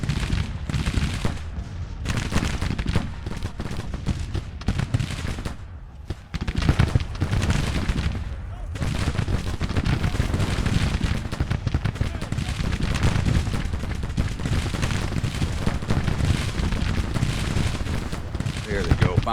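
Dense musket and cannon fire in the Civil War strategy game Grand Tactician: The Civil War, continuous crackling volleys with heavier booms, loud and sustained with a brief lull midway.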